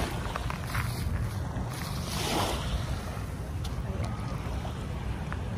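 Ocean waves washing onto the dolomite beach along Manila Bay, a steady rushing surf with a swelling wash mid-way, mixed with wind noise.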